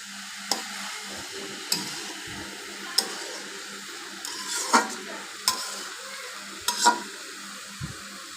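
Red amaranth greens tossed with potatoes in a pan, a low sizzle under regular spatula strokes that scrape and knock against the metal roughly every second or so, close up with no talking.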